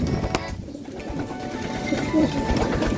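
Young racing pigeons in a loft, soft cooing and rustling over a steady background hum, close and moderately loud with no clear speech.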